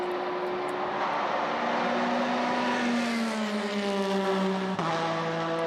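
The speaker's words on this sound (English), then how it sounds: "You hear that kind of hiss sound as they go past." A powerful, loud car passes by with a broad hissing roar and falling engine tone as it moves away, steady and fairly close with no talk.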